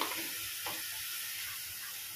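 Spices frying in a pan for a vegetarian stuffed potato curry, a steady soft sizzle with a brief stir partway through.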